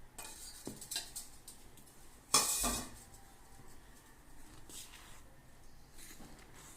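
A spoon mixes sugar into homemade shrikhand in a bowl, mostly soft and quiet, with one brief bright clink or clatter of metal against the dish partway through.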